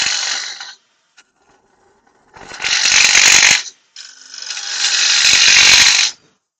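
Half-inch Robert Sorby bowl gouge cutting wood on a lathe, heard as three bursts of loud scraping hiss, two of them long and sustained, separated by near silence and with no talk.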